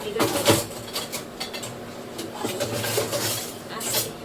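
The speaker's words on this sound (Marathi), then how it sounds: "आता मी भांडी इथं ठेवले ते." Metal pots and dishes being set down in a home kitchen, several clanks and clinks at irregular moments over a low background hum, with the strongest knock early on.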